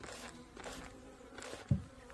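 Faint insect buzzing from hornets drawn to sprayed sugar water hovers in a quiet outdoor space, with a soft thump near the end.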